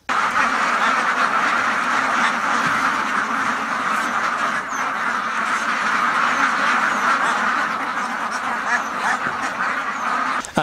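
A large flock of ducks on a duck farm quacks continuously and loudly, a dense overlapping chorus that never pauses.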